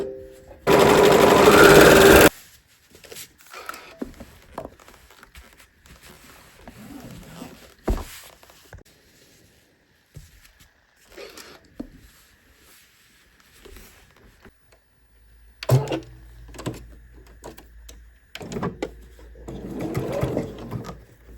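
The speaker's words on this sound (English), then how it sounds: "we're going to stitch that or overlock that down" Overlocker sewing machine stitching the pocket of a tote bag, one loud burst of rapid stitching near the start, then quieter handling noises, rustling and further shorter machine runs.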